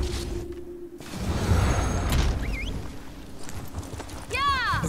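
Horse hooves clop steadily while riding in The Elder Scrolls Online, a soft continuous patter under low game ambience, with brief swooshes and a chiming effect near the end.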